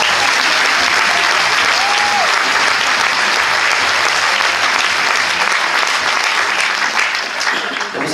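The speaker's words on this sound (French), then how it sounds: "Je vous remercie de les applaudir bien fort." A large crowd at a political meeting in Toulouse applauds loudly and steadily for the full eight seconds, a dense continuous roar of clapping with a brief whistle-like tone near the start.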